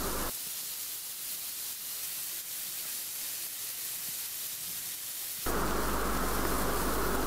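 Koi fish being fried in hot oil in a pan, a steady broadband hiss and sizzle that swells abruptly louder near the end as more fish are added.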